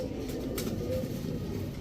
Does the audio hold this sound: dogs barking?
no